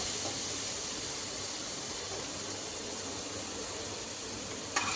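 Chopped onions hit a hot pan during home cooking of sookhi arbi ki sabji, giving a steady, even sizzling hiss that holds throughout, with a faint clink near the end.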